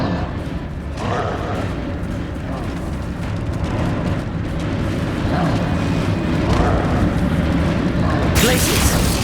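A Bombarda exploding spell from Hogwarts Legacy: a dense rumbling combat bed with faint thuds, ending in a sudden loud bright blast near the close, with spoken voices underneath.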